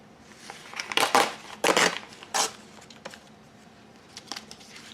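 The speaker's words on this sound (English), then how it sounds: "I'm just going to tear this down" A paper strip is torn by hand for a collage journal, giving three loud ripping bursts close to the mic, then fainter crinkles and small tears.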